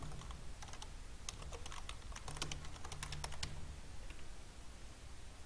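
Fingers type on a laptop keyboard, a quick irregular run of close, crisp key clicks with brief pauses between bursts.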